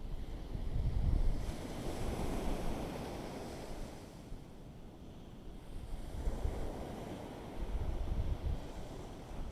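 Ocean waves at a beach break and wash in slow surges, with wind buffeting the microphone and a steady low roar between swells.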